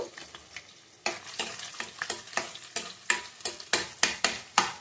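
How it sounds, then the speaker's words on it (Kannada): Food sizzles in hot oil while a spoon scrapes the pan in steady, repeated strokes, each stir bringing a fresh burst of sizzling. "ಸ್ವಲ್ಪ ಒಂದು ಎರಡು ನಿಮಿಷ ಫ್ರೈ ಆದರೆ ಸಾಕು"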